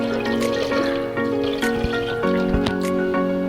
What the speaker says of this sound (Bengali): এবার খাসির মাংসগুলো আমি প্রেসার কুকারের মধ্যে দিয়ে দিচ্ছি আর জল দিয়ে দিলাম